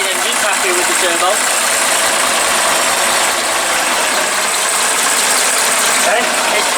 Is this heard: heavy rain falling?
no